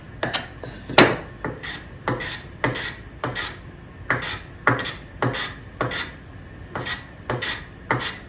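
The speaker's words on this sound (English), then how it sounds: "I will start with chamfering, just to get an angle edge in here, all 4 sides of the tenon." A woodworking rasp files a chamfer along all four edges of a wooden tenon, producing a steady series of close, loud rasping strokes in an even rhythm with brief pauses between them, with no talking.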